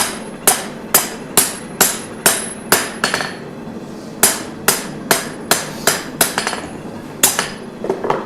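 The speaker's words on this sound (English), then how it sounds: "I think Tim is going to be freehand fullering today" Freehand hammering of a one-inch fuller into a large knife blade: a steady series of loud, ringing metallic strikes, roughly two per second, with a short pause midway, close up and without speech.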